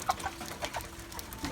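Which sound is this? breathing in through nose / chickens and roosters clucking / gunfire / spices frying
chickens and roosters clucking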